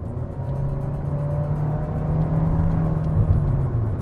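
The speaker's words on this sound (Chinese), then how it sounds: "我们小试一下它的中段加速" A Nissan Sylphy sedan accelerates from about 60 km/h on an open road, its engine rising into a steady, loud droning whir with road and tire noise inside the cabin.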